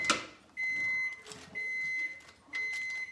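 Three evenly spaced electronic beeps from a microwave oven, each about half a second long, steady and clear in a quiet room.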